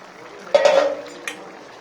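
A short clatter of a utensil against a pan of small pieces of fried fish, one scrape followed by a lighter knock, over a faint background hiss.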